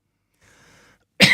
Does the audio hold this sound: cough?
yes